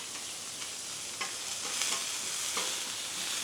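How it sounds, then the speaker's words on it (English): Onions saute lightly on a griddle beside cooking bacon, a continuous close sizzle with a few soft scraping stirs and spatula taps breaking through at intervals, no voices. "we are not looking for a heavy saute on these onions"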